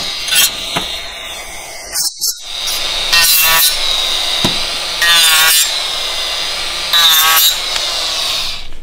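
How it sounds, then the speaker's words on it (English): Power tool grinding out the burr on a slotted exhaust link pipe for a Honda Africa Twin CRF1100L, heard as several loud short bursts of abrasive grinding separated by pauses. "So we're going to grind that out."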